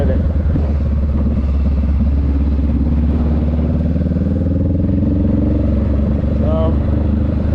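A motorcycle rides along twisting streets, its engine giving a loud, steady drone throughout with slight rises in pitch, while a person talks over it.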